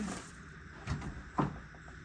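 A wardrobe closet door in a hotel room opens, giving a couple of soft wooden knocks and a brief click close by, with no talk over it.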